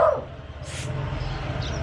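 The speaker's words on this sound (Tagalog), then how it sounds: "Nag-ingay tuloy yung mga aso." A dog gives a short bark near the start, then faint, distant yips follow over a low steady rumble.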